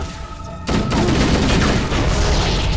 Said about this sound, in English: Let's try and grenade him, shall we?